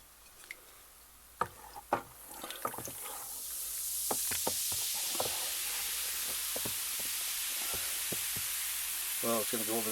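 Fizzing hiss rises steadily from a homemade wine cooler of yeast and sugar as it ferments after stirring. Scattered knocks and clicks come first, then the soft, continuous fizz fills the background.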